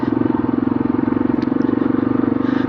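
A small off-road motorcycle on an adventure training ride, its single engine buzzing loud and steady with a rapid, even pulsing throb throughout, close to the listener.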